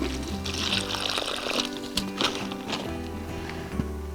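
Warm water pours into a container of peas to soak them, a close, continuous splashing trickle with small gurgles and light knocks, fairly quiet and steady throughout.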